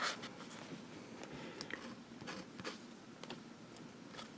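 A calligraphy pen with a regular nib scratches across paper in short, faint, close strokes, with soft scraping bursts coming at an uneven rhythm.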